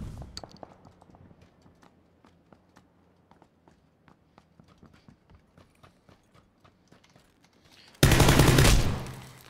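A shotgun fires in PUBG: one loud, sudden blast at the end, up close. Before it comes a long run of soft, steady footsteps on a hard surface.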